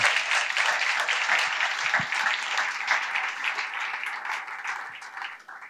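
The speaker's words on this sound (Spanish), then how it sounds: "Damos un aplauso al Señor" A church congregation applauds the Lord during a worship service, with dense, sustained clapping from many hands that fills the room at steady volume for several seconds and thins slightly at the end.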